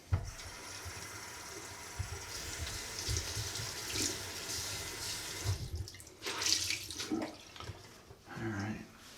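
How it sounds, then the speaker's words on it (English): Water runs steadily from a tap into a sink while someone splashes and rinses their face, with uneven splashing bursts near the end. "Just wash off my face."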